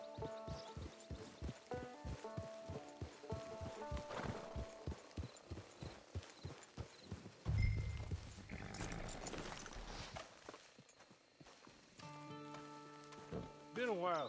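Steady clip-clop of horse hooves at a walking pace in Red Dead Redemption 2 Online, with a soft rain-like hiss and a musical tone underneath, later fading into ambient sound.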